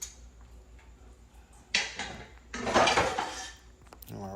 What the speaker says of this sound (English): you want to give it a mix. Make sure it's all combining so that cheese can melt right on around the meat.